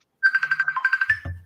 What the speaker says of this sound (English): Well, get a phone call.